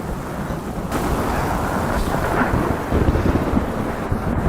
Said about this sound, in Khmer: ចាំភ្លៀងរាំងហើយ